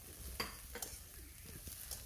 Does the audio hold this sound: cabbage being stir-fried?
yes